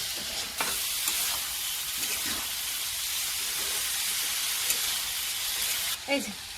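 Bitter gourd fries in a pan with green chilli, salt and turmeric, giving a continuous even hiss with a few faint clicks and a brief clatter near the end.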